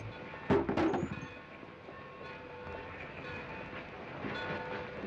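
A train at a station, with a loud burst of horn or whistle and clatter early on, then a steady low rumble of railcars that swells again near the end.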